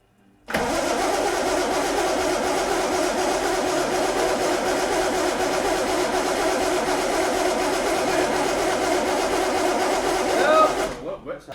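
An engine cranks and catches to a full-throttle start, running loud, steady and close for about ten seconds before a surge at the end, with people talking over it.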